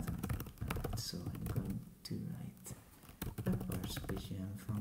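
A person types code on a computer keyboard with rapid clicking keystrokes in short runs, close and soft, while talking over the typing.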